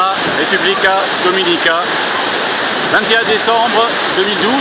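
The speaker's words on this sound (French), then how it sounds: "Cascade El Limón, Samaná" El Limón waterfall at Samaná in the Dominican Republic, a steady broadband rush of falling water filling the whole clip, with people talking over it throughout.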